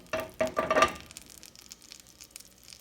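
Salted butter in a small skillet sizzles as bread goes in to toast, with a few close clatters and crackles at first, then a faint steady sizzle.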